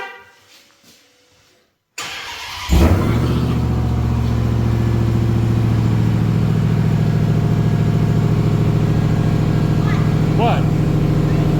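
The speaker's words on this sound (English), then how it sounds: "I was just starting the truck." A pickup truck that has sat unused for weeks cold-starts on a 50-degree day: a brief starter crank, then the engine catches with a loud burst and settles into a steady, throaty idle close by.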